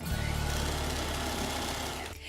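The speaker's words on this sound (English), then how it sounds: "Now you gotta sew the other side." A sewing machine runs a side seam on a T-shirt with a fast, even mechanical whir and needle chatter, close and steady for about two seconds before stopping abruptly.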